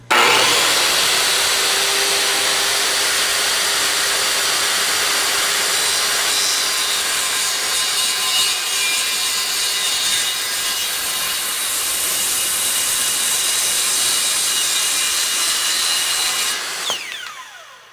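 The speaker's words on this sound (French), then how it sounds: "Je laisse la scie démarrer avant de commencer." A circular saw spins up and then cuts steadily through a wooden board, a loud continuous whine and rasp lasting many seconds before the blade is released and winds down; no talk.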